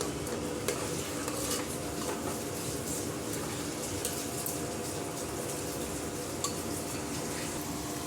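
Bagara rice being stirred in a pot, with a continuous soft scraping and gentle sizzle close by and occasional light clinks of a spoon against the metal.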